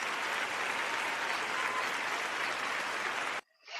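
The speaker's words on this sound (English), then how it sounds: "give us a round of applause for that too" Steady, dense applause from a live audience at a union worker's talk fills the room for over three seconds, then cuts off abruptly into near silence.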